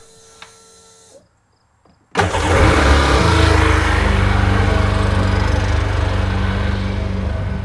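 A Sea-Doo GTX Di personal watercraft engine cranks and fires after a brief quiet moment, then settles into a loud, steady running drone with a hose in use nearby.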